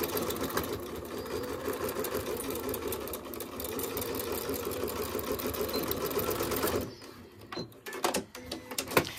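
Sewing machine stitching a half-inch denim seam on a blue jean wine bottle bag, a continuous close mechanical whir that runs steadily before stopping into a few scattered handling clicks.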